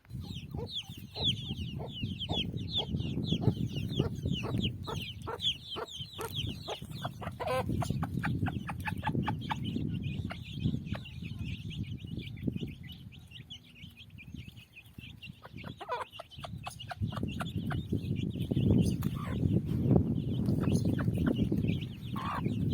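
Young chicks eating wheat peep in rapid high bursts while older chickens cluck low around them in a village yard, a busy, continuous flock chatter close by.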